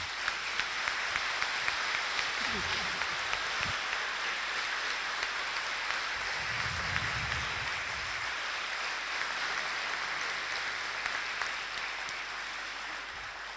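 A book-launch audience in a hall gives a sustained round of applause to welcome a guest speaker, a steady wash of many hands clapping that stays fairly even throughout.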